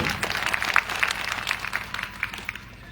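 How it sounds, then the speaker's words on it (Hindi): An audience applauds at a block-level health camp gathering, with dense, steady clapping from many hands that gradually thins and fades toward the end. "और एक जोरदार ताली इस बात की।"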